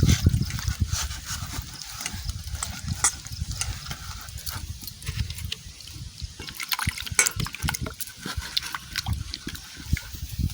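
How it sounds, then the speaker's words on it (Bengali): Oil is poured into a rice-flour batter with turmeric and salt and worked in by hand. Close, wet squelching and sloshing churns continuously and unevenly throughout. "তেল দিয়ে দিলাম"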